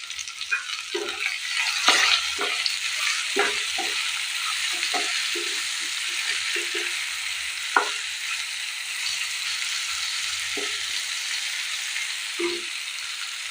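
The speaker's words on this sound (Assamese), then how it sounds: "মই পিঁয়াজখিনি দেখিছেনে ভালদৰে ভাজি ল'লোঁ। এইদৰে ভাজি ল'ব।" Onion and tomato fry in a pan for a paneer dish, giving a steady hiss of sizzling oil broken by repeated short scrapes and clinks of stirring, with no one talking.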